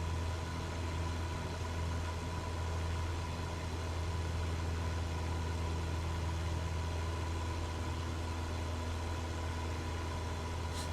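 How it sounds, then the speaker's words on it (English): An aircraft engine in Microsoft Flight Simulator runs with a steady low droning hum and a rough grinding undertone suggesting a fault, continuous and unchanging, with no talk. "The engine sounds bad. Sounds like something's off. There's like a grinding noise."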